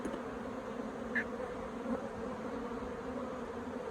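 Honeybees in a stressed queenless hive give off a continuous soft, even hum, close and steady, with a brief higher buzz as one bee passes near.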